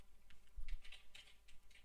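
Computer keyboard keys tapped in a quiet room while setting up a Roblox timer, a short irregular run of soft clicks with no voices.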